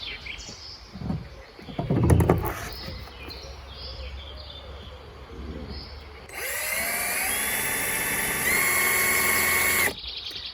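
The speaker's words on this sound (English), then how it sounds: "So I'm gonna get on with drilling here." A few clanks and rustles, then a power drill whines steadily at a high pitch for several seconds while drilling into glass, its tone shifting once before it stops.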